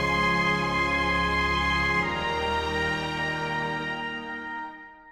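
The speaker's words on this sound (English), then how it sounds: "have the higher notes of the orchestra be the last notes to be heard of the chord" A full orchestral chord, trombones and bassoon among it, sustains loudly and then decays as the low instruments drop out first, leaving only the high notes ringing into a fade.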